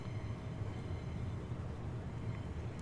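A Class 395 Javelin train rolls past as a steady, moderately faint rumble with a low-pitched drone and no clear peaks, heard briefly.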